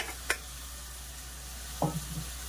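Onions cook in a pan with a faint, steady sizzle, broken by a brief utensil clink early on and a short scraping stir toward the end.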